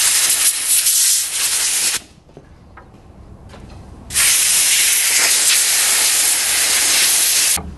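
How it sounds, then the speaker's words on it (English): Compressed air hisses loudly through the holes of a classic VW Beetle carburetor during cleaning, two strong blasts separated by a quieter pause, close and harsh. "and then compressed air into all of the holes"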